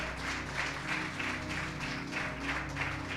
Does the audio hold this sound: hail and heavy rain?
no